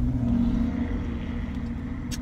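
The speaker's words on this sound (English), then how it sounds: "Y'all might hear some traffic." Road traffic heard through open car windows while driving in hot weather, a steady engine and tire rumble with a low hum, vehicles passing close by, no talk.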